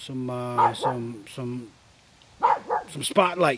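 A pet pug barks and yips at home in short bursts, close by, interleaved with someone talking over and between the barks.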